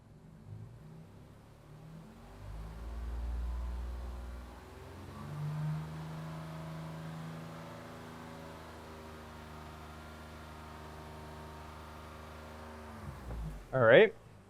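Car engine revved steadily up to about 3,000 RPM during a knock sensor and ignition advance check, a sustained mid-pitched drone that rises and holds, ending with a brief louder burst.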